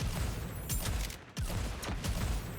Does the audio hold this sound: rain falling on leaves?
no